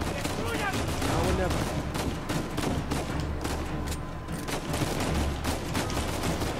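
Rapid bursts of gunfire crackle through an Uncharted 4 firefight, repeated sharp shots layered over a dense, loud combat soundscape, with a voice speaking at times.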